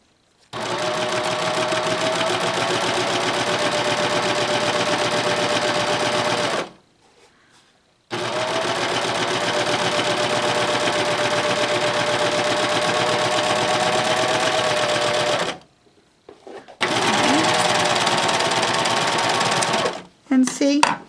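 A serger sewing machine stitching ribbon with a lace foot runs in three long, steady whirring bursts separated by short pauses, close and even, with a faint motor whine under the rapid needle chatter.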